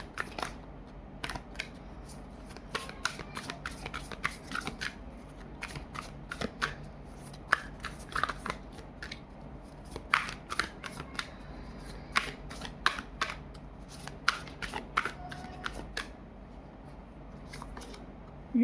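Tarot and oracle cards are shuffled and drawn, a long run of soft, quick riffling flicks and slaps in an uneven rhythm, close and fairly quiet.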